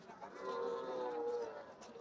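A heifer gives a single drawn-out moo at a busy cattle market in Joypurhat, rising and falling over about a second and a half, fairly close but not loud.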